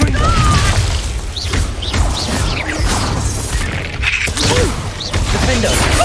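Confringo blasting spell going off in Hogwarts Legacy: dense, booming explosive bursts and crashing impacts over game sound effects, with short cries and voices mixed in.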